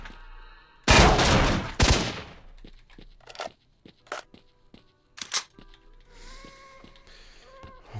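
Gunfire in the shooter game Stalker: Shadow of Chernobyl comes as two loud, close bursts of automatic fire early on, followed by sharper single shots and mechanical clicks of weapon handling spaced through the rest, with no talking.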